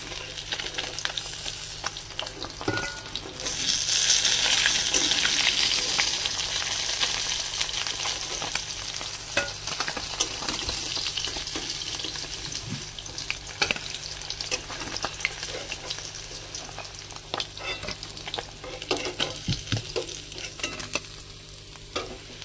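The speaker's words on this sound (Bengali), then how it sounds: "মাছগুলো ভেজে আমি তুলে নিলাম। আর সঙ্গে যে মাথাটা ছিল সে মাথাটাও ভেজে নেব আমি।" Fish, then a fish head, fry in hot oil with a loud sizzle that swells early and then settles. Scattered clicks and scrapes of stirring and turning run over the top of the bubbling, and nobody speaks.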